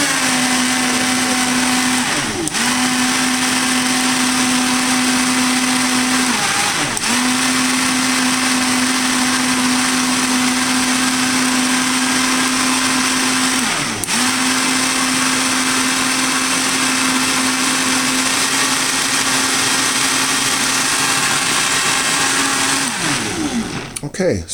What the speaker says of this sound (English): So let's get to blending